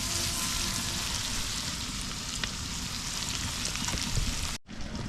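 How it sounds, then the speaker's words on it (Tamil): Onions and green chillies sauté in a pan over village cooking heat, giving a continuous crackling sizzle that stays even and fairly close before cutting off abruptly near the end. "இந்த வெங்காயம் பச்சை மிளகாய் எங்களுக்கு வதங்கட்டு கொஞ்சம்"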